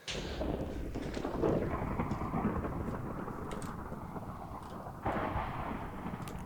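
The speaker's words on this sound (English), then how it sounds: "that lightning strike sounded quite serious" Thunder from a lightning strike in the video game Minecraft, a long low rumbling roll that fills several seconds, with a fresh louder crack-like surge partway through, fairly faint overall and without talk.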